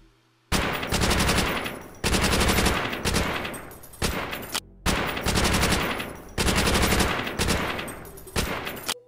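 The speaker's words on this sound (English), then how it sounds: "The Thompson from World at War." Thompson submachine gun from Call of Duty: World at War fires four loud sustained automatic bursts, each roughly one and a half seconds long, separated by brief pauses, with no talk.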